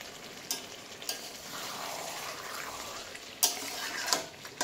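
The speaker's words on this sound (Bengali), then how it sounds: "আলুটা দেওয়ার পরেও কিছুক্ষণ একটু নাড়াচাড়া করব ভালোভাবে।" Fried potatoes are stirred into a chicken curry in a pan, making a quiet steady sizzle with a few sharp scrapes and knocks of the spoon.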